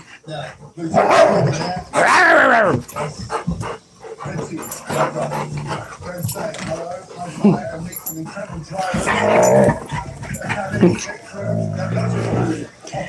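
Puppies bark, yip and whimper while playing and wrestling, with repeated close, loud bursts mixed with a person talking throughout.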